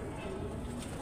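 Pigeons in a rooftop pigeon loft give low, steady cooing that sits close and continuous through the short moment, with faint background murmur.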